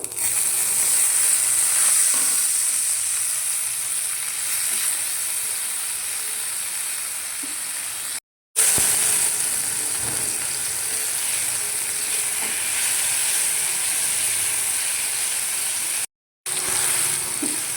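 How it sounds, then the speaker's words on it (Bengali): Ginger and green chilli paste fries in hot oil with whole garam masala for a paneer dish, making a loud, steady, dense sizzle that continues for many seconds with two brief gaps. "এবার আমি আদা কাঁচা লঙ্কা বাটাটা দিয়ে দেবো।"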